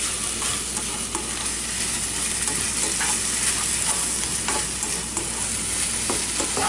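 Pre-cooked chicken breast warming in a pan on a stovetop, a steady close sizzle and fry with repeated light scraping stirs, no voices.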